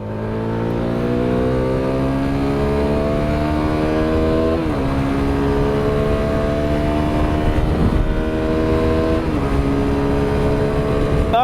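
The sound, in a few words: CFMoto 300SS motorcycle accelerating in third gear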